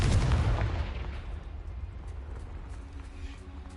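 A spell explosion in Hogwarts Legacy, a heavy booming blast that fades into a long rumbling decay, with faint clattering debris and tones trailing afterward.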